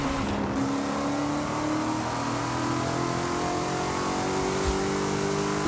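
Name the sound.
Mosler MT900 GT3 car engine driving in video game Forza Horizon 5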